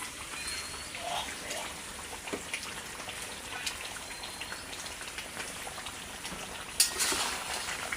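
Pangas fish sizzles softly in spiced masala in a pan, a faint crackling hiss with small ticks and a brief louder pop near the end.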